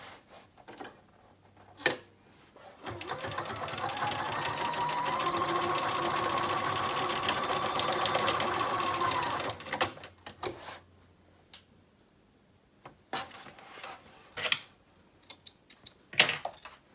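Sewing machine stitching entredeux trim onto a blouse runs in one steady, whirring burst of about seven seconds. Shorter clicks and brief runs of the machine come before and after it, close and clear.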